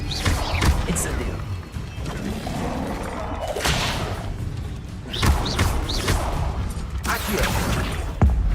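Incendio, a fire spell, cast in Hogwarts Legacy combat: whooshing bursts and heavy thuds that flare up and die away repeatedly over a constant rumble of battle, loud and close.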